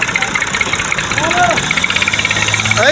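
A tractor engine labours and strains while pulling out of a stuck spot on a village track, a loud rough rumble with knocking under people talking.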